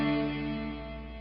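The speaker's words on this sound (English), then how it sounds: "But with the reverb," A guitar chord rings out through a reverb effect, its sustained harmonic tones washing and slowly fading over a bit more than a second, heard alone with no talk.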